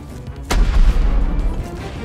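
A cannon in the video game Baby in Yellow fires once with a sharp, loud boom, followed by a low rumbling tail under faint background game sound.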